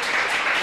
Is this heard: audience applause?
yes